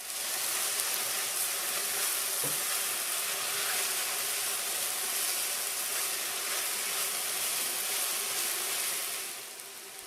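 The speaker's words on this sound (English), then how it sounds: "Add the cooked quinoa and mix well" Cooked quinoa is stirred into softened vegetables in a hot pan, giving a steady close sizzle and faint scraping that runs evenly throughout, with one soft knock near the start.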